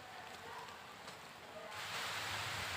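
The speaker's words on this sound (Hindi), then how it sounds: "बारिश शुरू हो गई है" Rain falls on surfaces at an old historic site, a steady soft patter that thickens and grows louder toward the end, with no clear talk.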